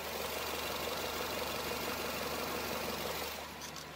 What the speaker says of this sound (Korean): 굉장히 정숙한 엔진 소음 만나볼 수가 있고요